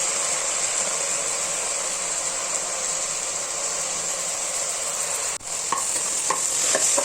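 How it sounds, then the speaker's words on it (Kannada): Chopped beetroot frying in oil in a pan gives a steady, close, even sizzling hiss, broken near the end by a few clinks and scrapes; no voices. "ಇದು ಕೂಡ ಒಂದು 10 ನಿಮಿಷ ಹಾಗೆ ಆಯಿಲಲ್ಲಿ ಫ್ರೈ ಆಗಬೇಕು"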